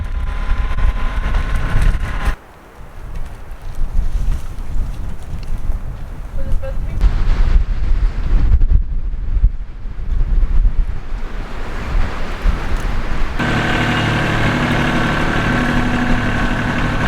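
Steady wind buffeting a microphone outdoors in an Alaskan garden, a broad roaring rush that drops briefly then gusts back, louder toward the end.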